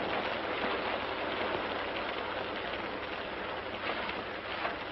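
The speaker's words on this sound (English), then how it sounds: "Had to get her in out of the rain." Steady rain falls outside a barn, a dense even hiss of drops on surfaces, faint and continuous with no voices.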